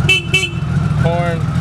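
Horn of a 1999 Honda Valkyrie trike sounded up close, with two short honks followed by a third, all loud and alone over the idling engine.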